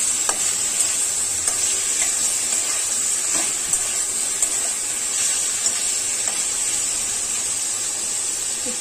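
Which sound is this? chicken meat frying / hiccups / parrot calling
chicken meat frying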